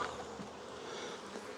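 Honeybees buzz densely at a hive in cool, early-season weather, a steady close swarming drone with no pauses and no voices.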